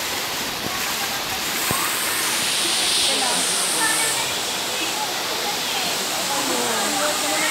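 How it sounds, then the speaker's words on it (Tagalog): The bottom fall of Ng Tung Chai waterfall in Hong Kong roars as a loud, continuous broadband rush of falling water, close and steady throughout. "Dito po yung bottom waterfalls."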